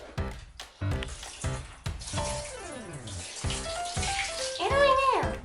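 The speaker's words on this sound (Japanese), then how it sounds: "シャワーで濡らしちゃった方がいいんちゃうか。" Shower water running over a Boston terrier puppy during its first bath, splashing and spraying in uneven bursts close by, with people talking softly and a high squeaky whine near the end.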